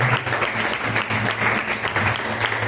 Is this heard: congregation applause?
yes